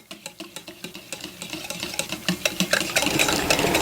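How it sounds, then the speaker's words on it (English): A whisk beats batter ingredients with vanilla extract in a bowl, making rapid rhythmic clinking strokes close by that grow quicker and louder as the mixing goes on. "now I'm going to whisk these ingredients all together and set these aside"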